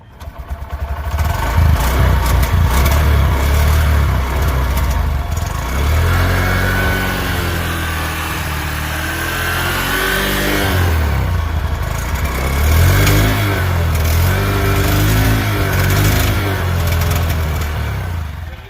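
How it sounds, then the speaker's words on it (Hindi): A Honda Shine 125 motorcycle engine runs close by, its exhaust rumbling deeply with a couple of revs rising and falling over a steady idle. "एग्जॉस्ट का साउंड सुन लो फटाफट कैसा है।"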